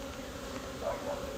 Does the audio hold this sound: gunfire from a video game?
no